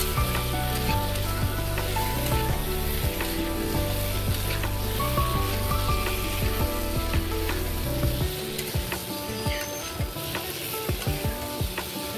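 Pointed gourd and eggs fry in a pan with a continuous loud sizzle, and a clatter of stirring in the final seconds.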